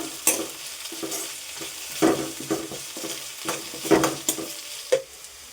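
Shallots, grated coconut, dried chillies and curry leaves fry in oil for a Kerala chicken roast, with a close sizzle and repeated ladle stirs and scrapes in an uneven rhythm; no voices.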